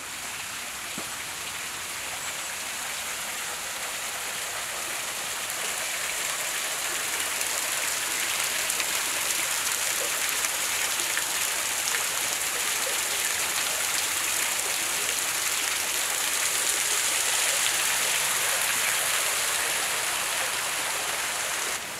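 A small stream running low on water makes a steady, unbroken rush of flowing water throughout, close and even in loudness, with no voices.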